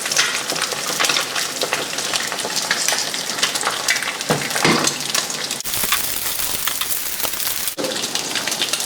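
Beef tapa sizzling in hot oil in a pan, a steady dense crackle and hiss throughout with brief dips, close and fairly loud.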